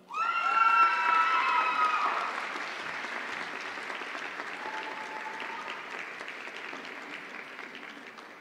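Sustained audience applause for doctoral graduates at a university college of education convocation, loud and dense at the start, then settling into steady clapping with scattered cheers and whoops from the crowd.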